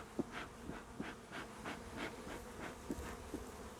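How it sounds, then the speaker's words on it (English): Honey bees buzz steadily around the entrance of a busy hive outdoors, a dense continuous drone with individual insects passing close now and then. "There's a nice honey colony right there. Lots of activity, which is really good to see."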